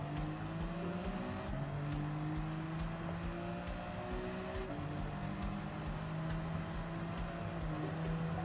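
A BMW M3 race car in Gran Turismo 7 drones with a steady, tonal engine note that steps in pitch with gear changes, sustained and even throughout at modest level.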